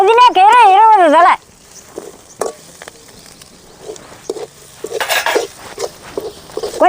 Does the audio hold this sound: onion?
yes